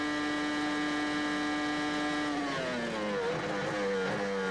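Eddie Irvine's Formula 1 car at the 2002 US Grand Prix screams at high revs and then drops sharply in pitch through downshifts under heavy braking into turn 1, loud and close.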